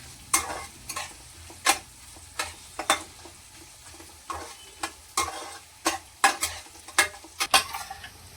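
Onion tempering for upma fries in a pan under a low sizzle, punctuated by frequent sharp scraping strokes of a spoon stirring, close and rhythmic.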